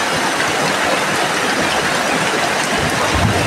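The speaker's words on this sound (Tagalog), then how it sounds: "kahit anong lakas ng ulan, kagaya ngayon" A dense, loud hiss of heavy rain pouring down, constant and close, with a low rumble underneath.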